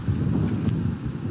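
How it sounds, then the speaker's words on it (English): Strong outdoor wind buffets the microphone in a steady, loud low rumble with gusty swells, no voices over it. "It is so windy."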